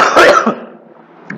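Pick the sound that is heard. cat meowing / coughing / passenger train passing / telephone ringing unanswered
coughing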